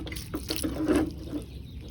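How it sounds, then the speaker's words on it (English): Water pours briefly into a jar of soil, a light splashing trickle lasting about a second amid quiet background noise. "then you just add water."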